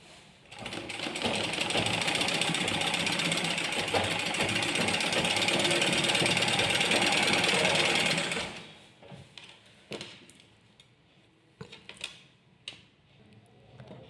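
A sewing machine stitches readymade lace onto a saree edge in a fast, continuous mechanical rattle for about eight seconds, then stops, leaving scattered light clicks and handling noises.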